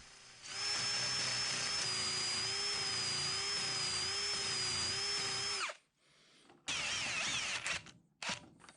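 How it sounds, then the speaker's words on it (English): A power drill whines steadily at high speed for several seconds, stops, then starts again in shorter bursts close by, drilling a metal plug in an engine oil passage. "with a replacement bit in the drill, I can go back to work on this plug."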